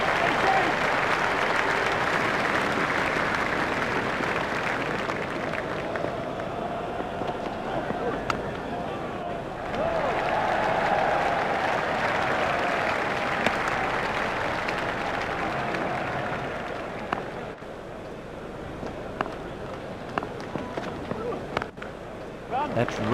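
A cricket crowd at an India vs Sri Lanka T20 World Cup match cheers and applauds a boundary shot, a loud continuous roar that swells and fades, with a commentator talking over it.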